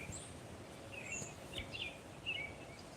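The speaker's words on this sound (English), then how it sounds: "I can hear the birds." Faint, scattered bird chirps sound over a steady rush of wind or outdoor noise, with no talking.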